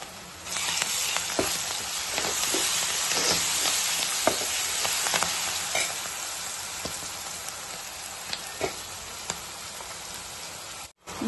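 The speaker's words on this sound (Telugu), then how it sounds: "సో ఇది ఫ్రై అయిపోతుంది." Turmeric sizzling in hot oil in a pan before chicken is added for a chicken fry, a steady close crackle and hiss with scattered sharp pops throughout, no voices.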